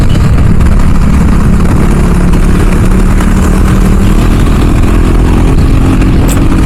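A modified KTM RC390 motorcycle with a BS4 exhaust and its dB killer removed, running loud and steady with a deep, rumbling idle and a slight rise in engine tone toward the end, no voices.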